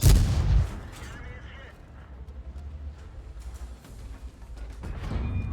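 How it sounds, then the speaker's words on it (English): A tank gun in World of Tanks fires a loud, booming shot right at the start, then a rumbling lull follows before another burst builds near the end, with a voice talking over it. "Look how the gun is fast firing and quite accurate, honestly, to be the tank gun."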